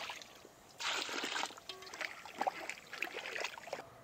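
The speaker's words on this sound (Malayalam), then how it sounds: "മീൻ മുങ്ങിക്കിടക്കാനുള്ള വെള്ളം ഒഴിക്കണം." Water is poured into a large pot of katla fish curry cooking outdoors in a village, a splashing trickle that surges early and then continues unevenly for several seconds at close range with no talk.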